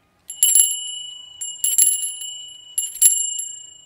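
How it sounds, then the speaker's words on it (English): Small hand bells rung by graduating seniors at a graduation ceremony: three bright, close ringing bursts spaced about a second apart, each shimmering and fading before the next, with no talk. "I invite you now, seniors, to ring your bell with me wherever you are in honor of your accomplishments."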